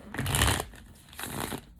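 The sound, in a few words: shuffling tarot cards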